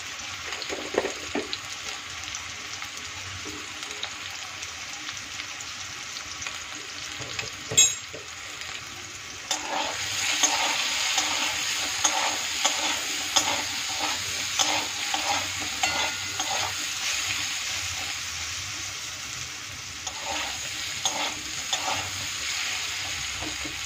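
Soya chunks fry in a pan with turmeric and salt, giving a steady broadband sizzle with repeated scraping stirs that grow busier partway through, close and fairly loud, with no talking.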